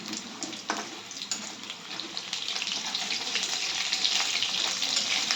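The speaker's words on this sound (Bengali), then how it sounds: "এই যে চিলি চিকেন প্রায় ভাজা হয়ে গেছে," Chilli chicken fries in a pan with a steady, loud hiss and crackle of hot oil close by, building slightly in intensity, with no talk.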